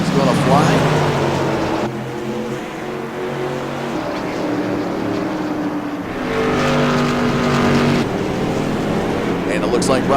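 Modified race cars roar around Thompson Speedway, a loud continuous engine drone with shifting pitch as cars pass, under steady race commentary.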